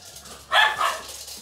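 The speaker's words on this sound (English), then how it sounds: "A dog." A dog gives one sharp bark, loud and close, after a quiet start and trailing off into a softer tail, with no speech.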